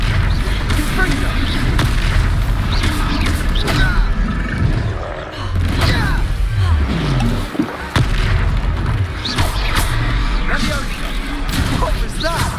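Confringo blasting-curse explosions in the Hogwarts Legacy video game hit as repeated heavy booms and bursts amid continuous combat noise, with game characters speaking over the action.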